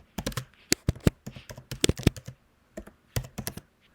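Someone types on a computer keyboard with quick, irregular clusters of crisp key taps, close and clear, with brief pauses between bursts.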